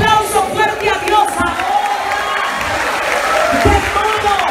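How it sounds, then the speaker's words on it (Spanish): A church congregation applauds loudly during a worship service, with clapping mixed with cheers, whoops and shouting voices that stay dense and close throughout. "Dale un aplauso fuerte a Dios"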